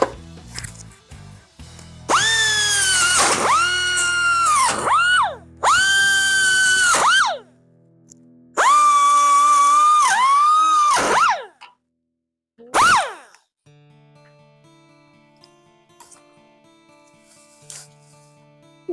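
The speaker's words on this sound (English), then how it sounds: "I'm just going to open up this hole a little bit with my die grinder." A die grinder works a hole in the metal body of a 1971 VW Super Beetle, whining loudly in four high-pitched bursts that rise and fall as the tool spins up and slows, with near silence between them.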